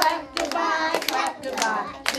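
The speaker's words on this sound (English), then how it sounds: "This is the way we clap goodbye, clap goodbye, clap goodbye." Children clap their hands during a goodbye song at the end of story time, short bursts of close claps in an uneven rhythm with brief pauses between them.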